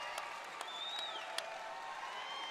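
Crowd at a college basketball game in an arena applauds and cheers after a blocked shot, a faint, distant, steady patter of clapping with a few sharper shouts and whistles.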